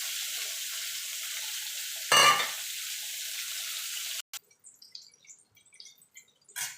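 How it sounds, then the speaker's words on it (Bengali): Ridge gourd slices frying in hot oil in a home kitchen, a steady close sizzle with a brief louder burst as pieces go in, then the frying cuts out and only scattered small clicks and clatters remain. "এই তেলে ঝিঙেগুলো ভেজে নেব।"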